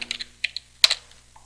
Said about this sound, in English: First, let's type in clear.